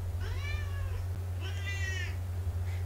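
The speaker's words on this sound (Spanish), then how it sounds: "Voy a ponerle una latita a la gata a ver si se calla, porque es muy pesada" A female cat meows twice in drawn-out, rising calls with a softer third start at the end, heard up close over a steady low hum.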